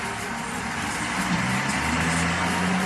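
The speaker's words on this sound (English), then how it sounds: "I wish this truck would go away, it's very loud" A loud truck passing outside, a steady broadband engine rumble and road roar that fills the background continuously, strong and close-sounding throughout.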